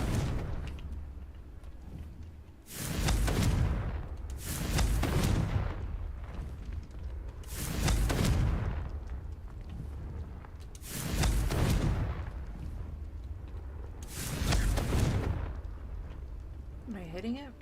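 Five loud Confringo spell blasts from the video game Hogwarts Legacy go off at a steady pace, each a sharp booming burst that fades before the next, and a voice speaks between them.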